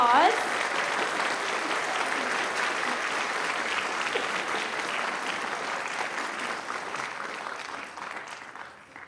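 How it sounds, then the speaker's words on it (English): An audience at a white coat ceremony gives a steady round of applause, dense clapping that holds for several seconds and then gradually fades, with faint voices underneath. "Let's give them a round of applause."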